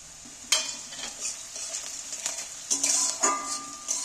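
Chopped onions and green chillies sizzle lightly in a pan, with a gentle continuous fry under repeated scrapes and clinks of a spatula stirring, close and moderately loud.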